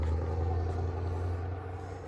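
A car fitted with a modified exhaust muffler rumbles past at night, a low steady engine drone that fades slightly over two seconds, no talk.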